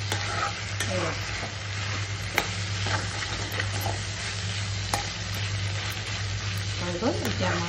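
Dry fish with kunduli stir-fry in a kadai with a continuous close sizzle and the scrape of stirring, a low steady hum underneath and a few sharp clicks scattered throughout.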